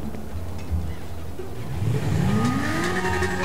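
Engine revving close by, starting as a low steady idle and then climbing in pitch through a rising rev toward the end, with no talk over it.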